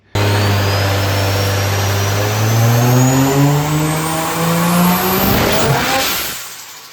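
A Honda Odyssey with a swapped 2JZ-GTE engine launches in a car park. A loud, close engine note climbs steadily through the revs with a whistling, whining edge, then ends abruptly.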